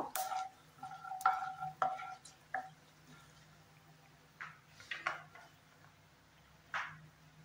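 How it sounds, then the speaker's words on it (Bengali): Crushed cardamom, cinnamon and cloves frying in a pan, a faint low sizzle broken by intermittent stirring scrapes and clinks of a spoon against the pan. "এলাচি, দারচিনি, লং থেতো করে নিয়েছি, সেটা দিয়ে দিচ্ছি। হালকা লাল করে এটাকে ভেজে নেব।"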